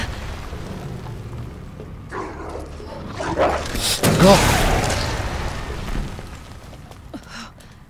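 Snarling, distorted barks from several demon dogs in Resident Evil 2 Remake, coming in bursts over rumbling background noise, with a voice speaking briefly.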